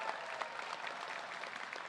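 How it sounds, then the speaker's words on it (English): Steady applause from a university commencement crowd, dense clapping throughout with no pauses, fairly close and moderately loud. "Let's give another round of applause to Charlene and Audrey."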